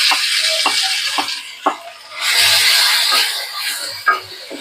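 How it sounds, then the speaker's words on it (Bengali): Boiled rohu fish is stir-fried in a pan with oil and a little sugar. A spatula scrapes and turns it in repeated strokes over a low, steady sizzle, with occasional sharp knocks against the pan. "দিয়ে ভালো করে মাছটাকে কষিয়ে নেব।"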